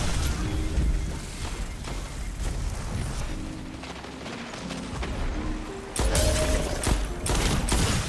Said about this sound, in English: I just shot whoever I could see.